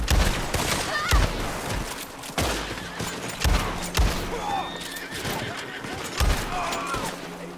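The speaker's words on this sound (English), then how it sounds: "Bullets fired." Gunfire in the Red Dead Redemption 2 video game, a series of sharp shots spaced irregularly, roughly six or seven loud cracks across the stretch.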